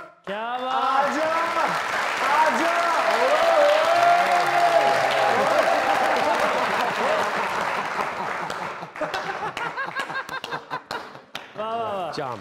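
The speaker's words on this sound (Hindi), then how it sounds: "बहुत सी तालियां" An audience claps at a live music show, with dense, steady applause swelling for several seconds and thinning into scattered claps near the end, while a host speaks over it and some laughter is mixed in.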